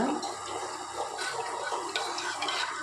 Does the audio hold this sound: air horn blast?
no